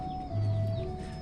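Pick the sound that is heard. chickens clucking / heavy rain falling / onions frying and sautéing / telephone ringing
chickens clucking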